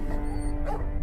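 A quick dog bark, short and yippy, sounds over a low rumbling background.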